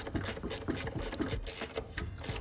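Ratchet clicking in quick repeated bursts while snugging bolts on the water pump of a 2016 Audi Q5 2.0T, close and fairly quiet with light workshop noise around it.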